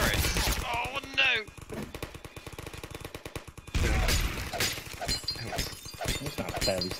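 Rapid automatic turret gunfire bursts in a video game, loud staccato rattles with shattering impacts, repeating in clusters while players talk and react over it.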